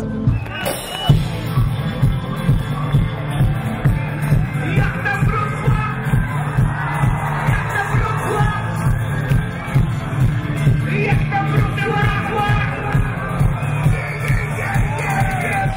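Roaring crowd at a rock concert on Wyspa Słodowa island in Wrocław, with yells, whoops and cheers over a steady rhythmic beat of music, dense hubbub filling the whole stretch.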